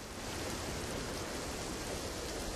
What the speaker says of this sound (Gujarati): આ સતત 6 ઇંચ વરસાદ આમનામ ચાલુ છે